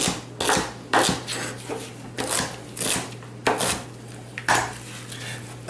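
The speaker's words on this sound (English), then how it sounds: "Celery, we generally want to cut some of the white ends off." A knife chops through celery stalks on a cutting board, about a dozen crisp, irregularly spaced cuts close up, with no voices.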